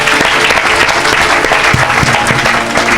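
A church congregation breaks into loud, sustained applause, dense clapping that fills the room close by, with a few scattered voices mixed in.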